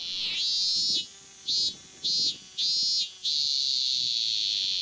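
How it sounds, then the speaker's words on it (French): Cicadas sing in Japan in loud, shrill, pulsing bursts, several separate rising swells followed by a long sustained drone, close and alone with no talk. "C'est le son des cigales, ce son-là."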